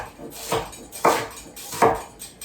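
A knife chops a white onion on a board, three distinct sharp strikes spaced about half a second apart, close and fairly loud with no talking.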